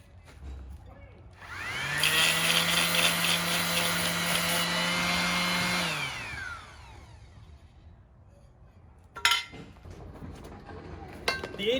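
Aluminum on a camper van build is sanded with 80 grit while prepping for solar panels: a steady motor whine runs for about four seconds, then winds down, followed by a few light clinks and knocks.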